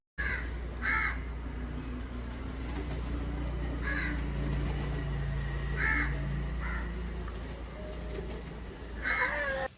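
Crows caw in short bursts of calls at a daily feeding spot, several separate rounds spread across about ten seconds, fairly close and clear over a steady low background hum.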